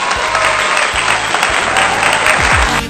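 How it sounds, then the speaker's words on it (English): A dense, steady round of clapping from a group fills the whole stretch at close range, loud and even from start to finish. "Give yourselves a round of applause."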